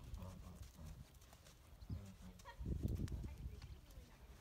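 A Tennessee Walking Horse canters in an arena, faint rhythmic hoofbeats thudding in uneven groups at a distance, with quiet background noise and a brief murmur of voice.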